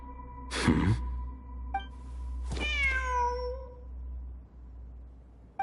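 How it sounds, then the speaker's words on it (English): A cat meows twice in the video game Genshin Impact, a short close meow followed by a longer rising-and-falling one, over a quiet game ambience with a steady low hum. "The cat's showing us the way forward."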